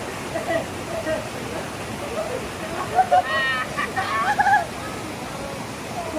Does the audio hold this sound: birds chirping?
no